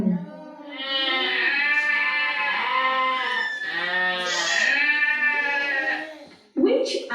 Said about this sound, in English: Which animal? Sheep. Yes. Sheep. It's a sheep.